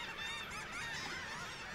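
Huge flock of shorebirds, tens of thousands including red knots, feeding on horseshoe crab eggs on a beach at Mispillion Harbor; a dense, continuous chorus of overlapping calls with honking tones, loud and steady throughout.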